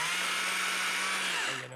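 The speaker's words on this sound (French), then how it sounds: "moi, je suis un gars de chainsaw, OK? Donc, j'utilise la scie mécanique." A chainsaw runs loud and close in a steady, unbroken buzzing drone, its pitch dipping briefly near the end, with no talking.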